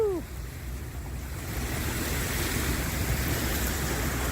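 Water of the River Thames sloshing and lapping at the shore during a mudlarking rinse of a find, a steady broadband wash with wind, fairly close, with no talk.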